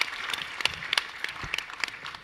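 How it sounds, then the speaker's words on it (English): An audience at a fintech startup pitch competition gives a brief round of applause. It is thin and scattered, with individual sharp claps standing out over a light, fading patter. "Big round of applause for Waya."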